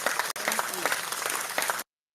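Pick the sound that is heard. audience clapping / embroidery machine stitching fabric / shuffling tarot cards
audience clapping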